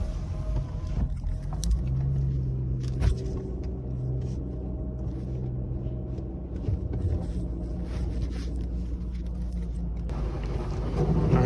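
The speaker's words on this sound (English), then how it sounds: "while we're going through the car wash" A 2007 Mustang GT sits inside an automatic car wash, a steady low rumble of machinery and spraying water surrounding the cabin, with a few thumps and a swell near the end and no talk.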